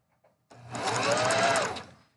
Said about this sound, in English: So I've done 3 or 4 stitches.